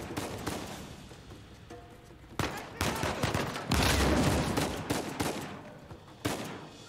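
Gunfire bursts in Uncharted 4, a loud, dense fusillade of shots with repeated broadband cracks building toward the middle and continuing in sharp volleys, with some talk mixed in.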